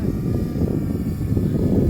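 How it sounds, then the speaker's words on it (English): A drone passes overhead at a sunset video shoot, its propellers making a continuous, moderately loud buzzing whir with no speech over it. "That's a drone flying there."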